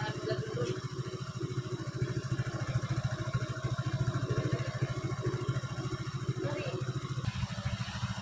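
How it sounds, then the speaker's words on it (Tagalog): Motorcycle engine with a weak battery running at a steady idle, a continuous close, low throbbing putter that holds evenly throughout, with a brief change near the end. "Ipandar na atag motor dia."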